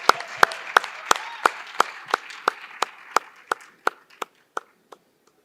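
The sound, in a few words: audience applause after an investment pitch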